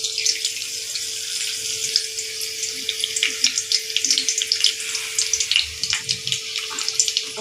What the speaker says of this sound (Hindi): ऑयल में हम कड़ी पत्ता डालेंगे